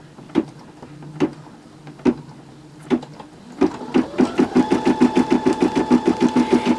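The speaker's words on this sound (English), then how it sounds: "And this is doing like a bean stitch, so it is attaching it nicely." A home embroidery machine running a bean stitch on dress fabric for an in-the-hoop Christmas ornament: a few separate thumps, then a fast, steady mechanical chatter of needle strokes with a rising whir, close and fairly loud.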